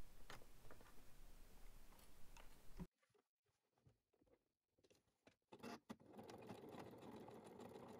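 A sewing machine stitches straps onto a fabric bag, running in quick rattling bursts with short pauses, then settling into a longer steady whir, close and clear with no talk.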